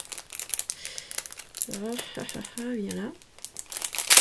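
Paper being cut out for a handmade Valentine's card gives off crisp crinkling and rustling, close and moderately loud, with a short spoken word partway through.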